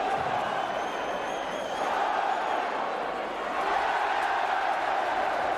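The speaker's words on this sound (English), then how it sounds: "They're still cheering it now." A darts crowd at the Winter Gardens in Blackpool cheering a replayed nine-darter, a steady loud roar of many voices with people talking over it.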